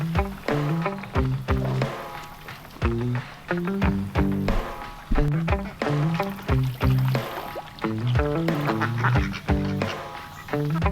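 A flock of ducks from Murray McMurray quacking by a farm pond, loud and close, with repeated nasal calls overlapping in irregular bursts throughout.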